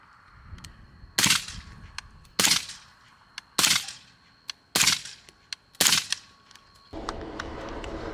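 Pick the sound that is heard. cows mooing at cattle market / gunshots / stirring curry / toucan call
gunshots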